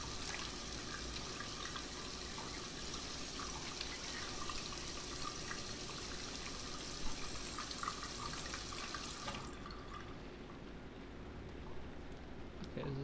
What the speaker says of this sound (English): The shower.